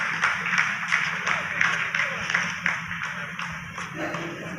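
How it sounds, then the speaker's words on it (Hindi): Scientists in a mission control room break into applause after a landing phase completes, a burst of clapping that carries on for several seconds, with a voice talking over it. "जी हाँ, आप इस तालियों के गड़गड़ाहट को सुन सकते हैं,"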